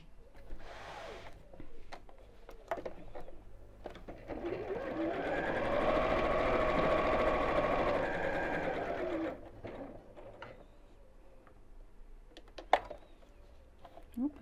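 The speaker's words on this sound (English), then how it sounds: "I'm going to sew all the way around." A sewing machine stitches steadily around the edge of a fabric pinwheel pin cushion, a continuous mid-level whir of a few seconds, with soft handling noises and brief pauses before and after.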